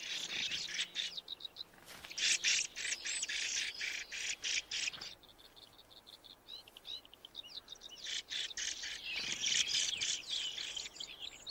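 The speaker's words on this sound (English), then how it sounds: "An Arctic redpoll, one of the hardiest of the northern finches." An Arctic redpoll calls in bright, high repeated bursts of chattering notes, fairly close, with faint insect buzzing in the background and no voices.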